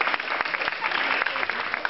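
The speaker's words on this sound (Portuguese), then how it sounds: "Uma salva de palmas, por favor." An audience at a gathering breaks into dense, continuous clapping, a brief close burst of crackling applause.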